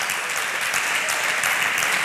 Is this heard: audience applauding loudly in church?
yes